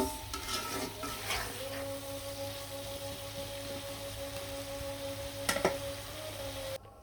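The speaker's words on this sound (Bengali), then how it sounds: "ভালো করে টমেটোগুলো কিন্তু আমি সুন্দরভাবে কষিয়ে নিব" Tomatoes sauté in a pan with turmeric, chili and coriander powder and green chilies for a Chapila fish curry, a soft, steady sizzle with a few stirring clatters and a faint hum, no voices.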